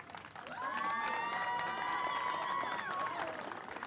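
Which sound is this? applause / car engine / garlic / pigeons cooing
applause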